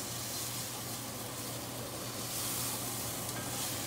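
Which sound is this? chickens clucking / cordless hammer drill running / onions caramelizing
onions caramelizing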